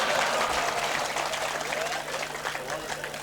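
A college audience at a comedy show in Darwah Digras claps, a loud, dense burst of applause that thins slightly as it continues.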